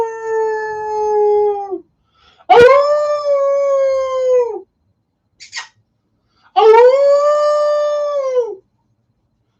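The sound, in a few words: dog howling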